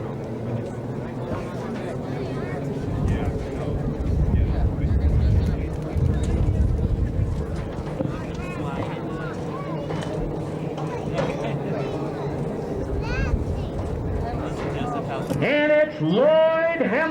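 Race airplanes with piston engines of over 4,000 horsepower line up at the 1990 Reno Air Races, giving a distant, droning engine rumble that swells midway, with rising whining tones near the end and voices mixed in.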